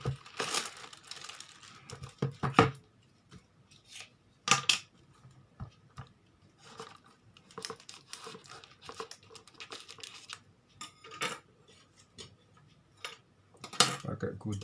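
Scissors snipping and tearing open the packaging of a MikroTik RB951 series router, with sharp crinkling plastic and cutting bursts scattered between pauses, close by, while a person talks intermittently.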